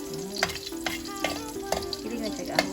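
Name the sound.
garlic frying in a pan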